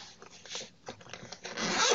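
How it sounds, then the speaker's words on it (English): A soft fabric headphone case for Linkwitz Bluetooth headphones is unzipped close up, a quick, smooth ripping zipper sound lasting about two seconds, rising in loudness at the end. "Smooth zipper."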